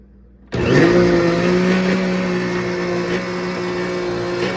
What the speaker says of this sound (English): We're gonna blend again for about 30 seconds.